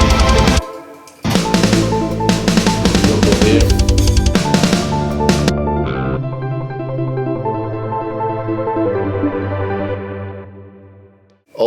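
A trance metal synth patch from the Massive plugin plays a loud, heavily distorted, effects-laden riff with chopped rhythmic stabs, then shifts into a sustained, shimmering melodic line that fades out, with no voices.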